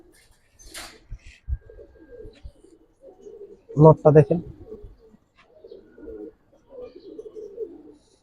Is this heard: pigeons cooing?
yes